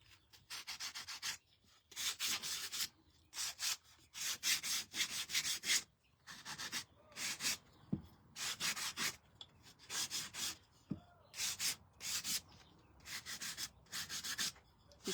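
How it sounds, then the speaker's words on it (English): Sandpaper rubs against wood in quick, rhythmic scratchy strokes that come in short bursts with brief pauses, close up and fairly quiet. "We're going to start sanding."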